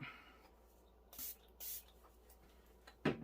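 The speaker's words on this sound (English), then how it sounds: "we're just going to hit it with our setting spray, our Stay All Night Micro Fine Setting Mist by e.l.f." e.l.f. Stay All Night Micro Fine Setting Mist is sprayed in two quick bright hissing bursts, close and clean in a quiet room, followed by a soft knock.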